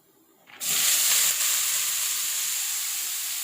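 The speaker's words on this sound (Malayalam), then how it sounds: "കടുക് നല്ലോണം പൊട്ടി." Mustard seeds hit hot oil with a sudden loud sizzle that starts after a brief quiet moment, then keeps up a steady crackling hiss while the beetroot thoran is being made. No voices are heard.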